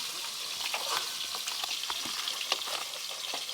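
Fish sizzles steadily in hot oil in a pan after being flipped, a dense, continuous crackle and spatter close by with no voices.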